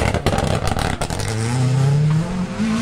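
WRC rally car at the Rallye Monte-Carlo blasting past on a stage, a sharp gear-change crackle followed by a rising, loud engine howl as it accelerates away, close by with no talking.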